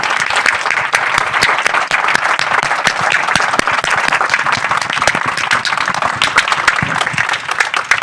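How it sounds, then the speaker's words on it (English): Loud, sustained round of applause from an audience honoring panelists at an arts and activism discussion, many hands clapping densely and close, steady throughout with no speech on top. "I want to give you a big round of applause"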